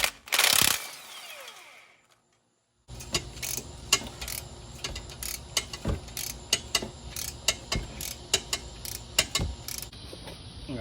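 Ratchet clicks while loosening the bolts on long tube headers fitted to a 4.6 4v swapped GT, heard as a burst of repeated close pawl ticks, a short silence, then steady rapid clicking broken by louder sharp metallic snaps.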